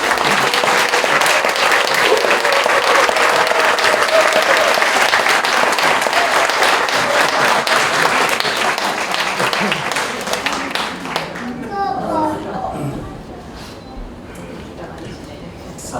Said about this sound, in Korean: 우리 목사님 나오실 때도 우리 박수로 한번.